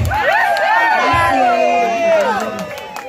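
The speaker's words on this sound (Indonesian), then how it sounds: "Sekali lagi tepuk tangannya untuk Bang Sahar dong." A crowd at a motorcycle community anniversary event in Makassar cheers and shouts with overlapping excited voices, loud and close, with some clapping mixed in.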